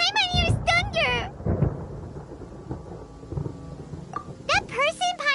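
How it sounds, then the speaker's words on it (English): Thunder rumbles in a stormy scene in the video game Genshin Impact, low rolling booms between stretches of rain-like noise, with character voices speaking at the start and end. "Paimon hears thunder!"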